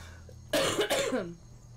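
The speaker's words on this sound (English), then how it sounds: "You'll be able to hear me cough better." A single close, throaty cough breaks a quiet room, lasting about a second before fading back to faint background hum.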